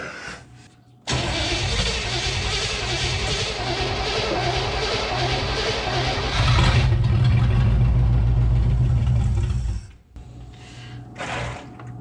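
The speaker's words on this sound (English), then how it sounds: "Let's turn that idle up. Let's turn it up real high so it don't die." Engine of a rusty 1967 Chevrolet Impala, abandoned for sixteen years, catches and runs with its idle turned up high, a loud steady roar that climbs louder near the end before cutting out abruptly, followed by faint rustling.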